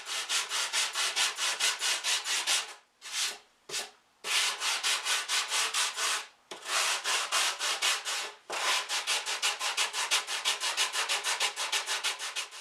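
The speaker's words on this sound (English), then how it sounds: "Final sand this thing out." Steady back-and-forth sanding strokes on a wooden mandolin back, loud and close, rhythmic rubbing with a few brief pauses between runs.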